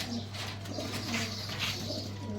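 Domestic pigeons, including French meat breeds and Aleppo Shoush, cooing softly in a couple of low, throaty calls over a steady electrical hum, with no talking.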